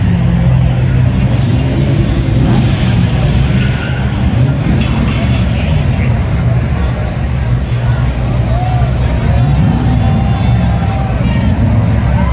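Cars roll out together at a car show, including a Shelby Series 1, engines rumbling loud and close as the vehicles drive off in a steady, continuous stream, with crowd chatter mixed in.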